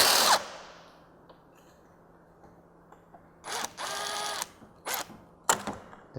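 Short bursts of a power tool whir in fits and starts while a Torx fastener is backed out of the noise pipe on a 2.0T TSI engine, with quiet pauses and small clicks of handling between runs.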